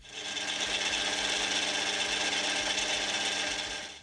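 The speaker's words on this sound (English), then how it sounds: "Finally, it's time to drill a hole for the thread" A steady, harsh grinding hiss of a drill cutting into steel in a manual machine shop runs continuously for a few seconds, close and fairly even.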